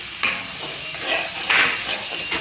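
Garlic sizzles in a hot frying pan with ginger, giving soft crackling hiss bursts as it is stirred, close and steady without talk.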